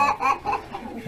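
Roosters clucking on a farm with baby animals: a few short, close bursts of fowl calls coming in quick succession over a brief moment.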